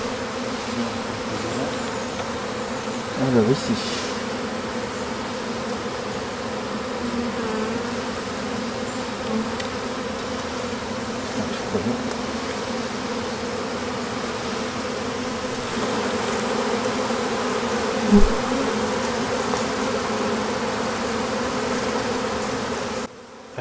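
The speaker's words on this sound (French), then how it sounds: "J'ai encore quelques abeilles" Honeybees rescued from inside a hollow tree trunk give a dense, continuous buzzing hum that stays loud and close throughout, with a few brief louder passes and a couple of short words spoken in French.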